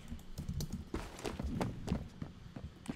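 Someone types on a computer keyboard in an irregular run of soft, close keystrokes and thumps, with no talking over them.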